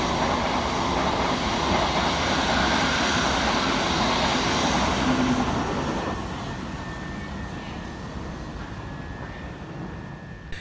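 Thameslink Class 700 train passing through New Cross Gate railway station, a steady loud rumble and roar of wheels and traction that holds for several seconds, then eases slightly as it moves on, with no talk.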